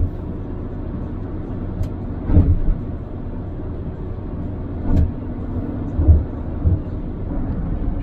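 A car cruises along a rural Iowa road with a steady low rumble of engine and tire noise. A few soft thumps and bumps rise briefly above the constant drone, and no one speaks.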